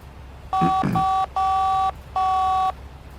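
Three steady two-tone telephone keypad beeps sound as a number is dialed in The Da Vinci Code video game, each held about half a second with short gaps, clear and close over a quiet background.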